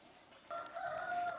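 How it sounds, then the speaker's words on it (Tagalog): A rooster crows once in the early morning in a quiet rural spot, a moderately distant call rising over faint background hush, no voices. "Puro manok lang naririnig ko."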